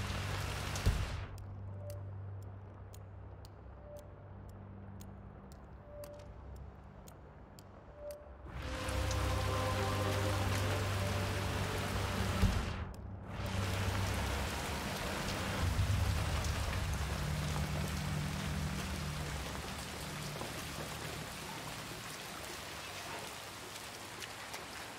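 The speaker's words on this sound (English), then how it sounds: "I'm never going out in the rain again." Steady rain pours down in Chongqing, China, in the game Hitman 3, a continuous hiss under a low hum that swells louder partway through and stays dense to the end, with no voices.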